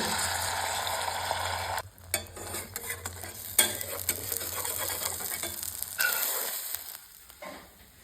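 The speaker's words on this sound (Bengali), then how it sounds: "ডিমটা ভেজে নেব" An egg sizzling in a hot pan with spatula stirring and scraping, the frying fading in and out over several seconds.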